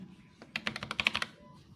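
Quick burst of about nine clicky keystrokes on an Asus Claymore II wireless mechanical keyboard with optical switches and a metal frame, close and crisp, with no voice over them.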